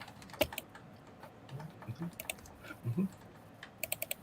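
Sharp keyboard clicks in scattered bursts, faint and close, with a quick run of keystrokes near the end over a quiet background.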